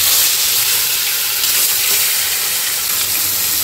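Whole spices sizzle in hot oil in a kadai as tempering for homemade chicken biryani, a loud, continuous crackling hiss close by with no talking.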